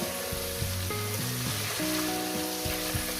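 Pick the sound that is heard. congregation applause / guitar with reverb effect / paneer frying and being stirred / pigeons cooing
paneer frying and being stirred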